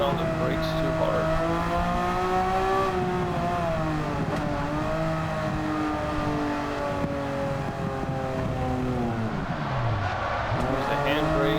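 Subaru WRX Gr.B Road Car in Gran Turismo 7 drifting on a wet track, its engine droning loudly and steadily with shifting pitch sweeps as it slides through corners, tires hissing underneath, with a voice talking over it.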